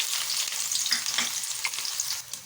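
Onions fry in hot oil in a kadai, a bright, crackling sizzle up close with a few stirring scrapes, fading slightly toward the end.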